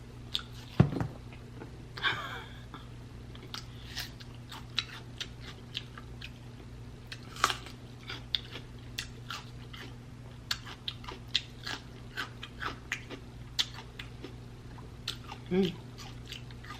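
Close, wet chewing and biting during a mukbang of a spicy garlic egg boil, with soft irregular crunches and mouth sounds over a steady low hum, plus a few sharper bites.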